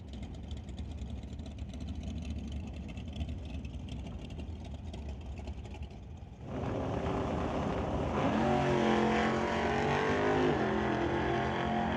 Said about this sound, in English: a single pass then for Jeff Bell with a 1976 Dodge Dart